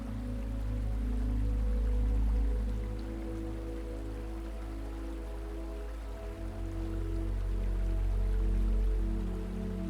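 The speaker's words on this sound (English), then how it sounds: "the air is filled with the gentle sound of water flowing over smooth stones" A continuous low wash of water flowing over smooth stones, gentle and even, with a soft steady hum beneath it and no voices.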